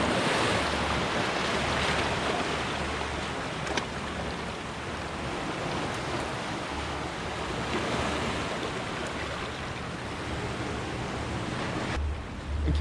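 Ocean waves break and wash continuously onto a beach at sunset, a steady loud roar of surf with wind buffeting the microphone throughout, no voices.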